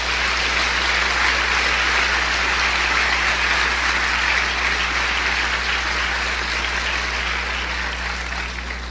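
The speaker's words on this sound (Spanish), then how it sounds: "Denle otro aplauso al Señor" Sustained applause from a church congregation at an evangelical service, a dense even roar of many hands lasting throughout, loud and steady with faint tonal hum underneath.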